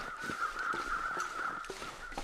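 A crow in The Long Dark gives a sustained, raspy caw that stretches across the moment, moderately distant, with faint soft rustling beneath and no talking.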